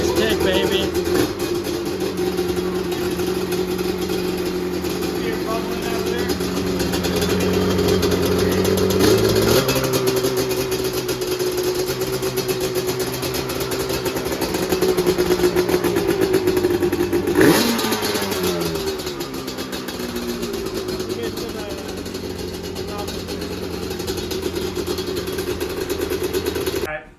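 Yamaha Banshee engine started after a cold spell and revved: a steady, loud two-stroke drone fills the whole clip, with pitch climbing and dipping through several revs and a sharp jump near the middle.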